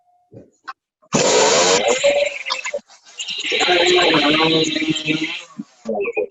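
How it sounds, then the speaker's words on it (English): A small engine sputters briefly, then a loud chainsaw roars to life, revs, dips and revs again before cutting out, close by, during a hot saw racing competition after a stall. "his chainsaw stalled. He's gonna take another pull"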